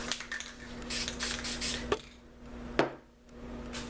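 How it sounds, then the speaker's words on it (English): An aerosol spray paint can hisses out yellow paint in several close bursts, short puffs first and then longer sprays with brief pauses between them. "So I'm going to spray out some yellow"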